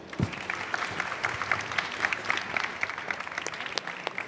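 Audience applause for conference panelists at a session on infrastructure and the advanced air mobility ecosystem, a steady moderate patter of many hands filling the room for several seconds, with a faint voice underneath.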